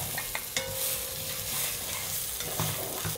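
Chestnuts and shallots cooking in olive oil in a pot, with a steady sizzle and a few stirring clatters; no talking.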